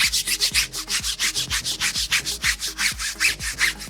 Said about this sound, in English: Give the tire a quick scrub.